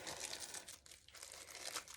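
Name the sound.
packaging being ripped open, crinkling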